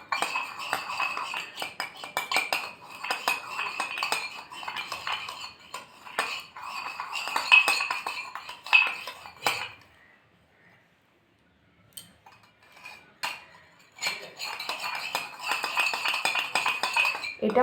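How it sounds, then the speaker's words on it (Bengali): A beetroot lip balm mixture being whisked in a small bowl, heard as quick, light metallic clinking and tapping in bursts. The whisking stops briefly partway through and then resumes, close and fairly quiet. "এটা খুব ভালো করে ফেটাতে হবে যতক্ষণ না এটা একটা ক্রিমি ব্যাপার এসে যাচ্ছে।"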